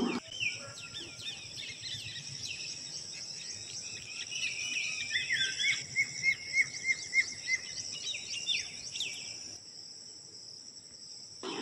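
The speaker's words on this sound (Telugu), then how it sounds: "birds sounds వినిపిస్తాయి" Quiet early-morning outdoor ambience on a balcony with high chirping birdsong and insect trills, a series of short repeated calls rising midway before fading.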